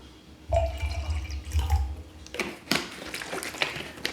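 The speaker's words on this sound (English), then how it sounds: "I'm gonna put a little bit more cold water in here" Cold water pours and splashes into a cup of yerba mate for a few seconds, with small drips and a clink of glass, close by.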